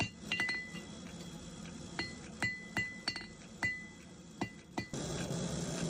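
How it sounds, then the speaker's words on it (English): Hammer blows ring out on a knife blade being forged on an anvil, a series of sharp metallic clinks at irregular intervals, loud and close, with a steady background hum. "As I continue to hammer away at the blade, it becomes longer and thinner."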